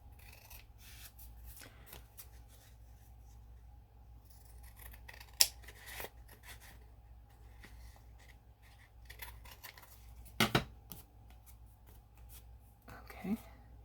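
Scissors snip and trim material close by in a quiet indoor room, with scattered short cuts and rustling spread across the clip over a steady low hum.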